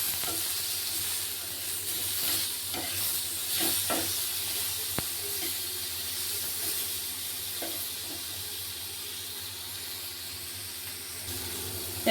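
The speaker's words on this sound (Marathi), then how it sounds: "आता टोमॅटो पण फ्राय करून घ्यायचे थोडं।" Tomatoes fry in a little oil in a pan for dhaba-style matar paneer, a steady close sizzle and hiss with faint stirring clicks, no talk.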